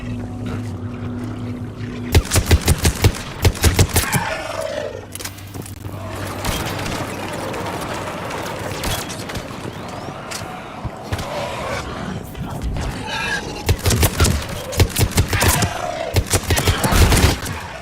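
Bursts of rapid gunfire from the video game Mass Effect 3 crackle in several loud volleys amid rumbling combat noise, with quieter stretches between.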